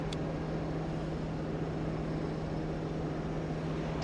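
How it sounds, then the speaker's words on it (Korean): A steady, very quiet V8 car engine idle heard with the hood closed, a constant low hum, smooth and even throughout, no other sounds. "시동이 켜진 게 맞나 싶을 정도의 너무도 정숙한 8기통의 엔진 소음"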